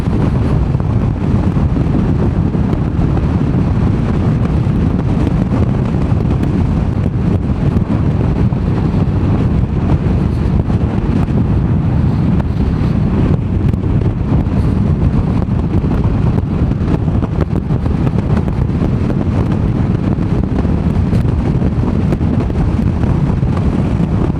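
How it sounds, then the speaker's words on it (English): Strong gusty wind roars across the microphone on the coast at Whitby, a loud, constant buffeting rumble that fills the whole stretch with no letup and no voices. "It's actually really quite blustery"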